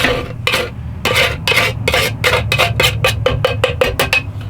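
Metal knife scraping out the inside of a can while cooking chili, a fast run of a dozen or so sharp, rasping strokes that quicken toward the end, close and loud over a low background hum.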